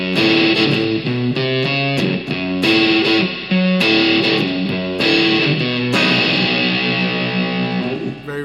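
Electric guitar through a fuzz pedal playing a riff, thick saturated chords and sustained notes in a rhythmic pattern with short breaks, loud and close with no talking.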